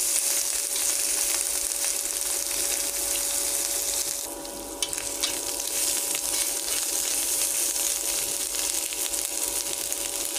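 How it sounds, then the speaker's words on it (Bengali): Green chilli, chopped onion and ginger with salt and five-spice seeds sauté in hot oil with a loud, continuous sizzle close by, broken by a short dip and a faint scrape midway, with no voices. "এই যে কাঁচা লঙ্কা আর পেঁয়াজ কুচনো আর আদা, এটাকে দিয়ে দিব লবণ। এটাকে কষাবো ভালো করে।"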